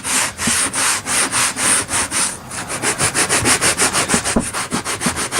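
Sandpaper rubs back and forth along the side of cork roadbed in a steady rhythm of short, gritty scrapes. The strokes start slower and get quicker, close up, with no talking.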